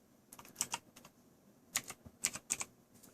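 Keys clack on an ABKO HACKER K620 mechanical keyboard, typed in a few short, uneven bursts of crisp clicks, close and fairly quiet, with no talking.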